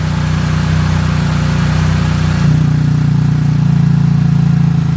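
The engine of a BMW R1300 GS Adventure motorcycle runs with its exhaust valve opened, a loud, steady low-pitched drone that deepens and grows fuller about halfway through, close by and uninterrupted, with no voices.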